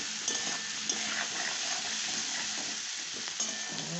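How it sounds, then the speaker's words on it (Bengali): Onions fry with salt and a little turmeric in a pan, giving a steady close sizzle with a few light stirring scrapes and no speech. "পেঁয়াজটা ভালো ভাজা হওয়ার জন্য নুন দিলাম"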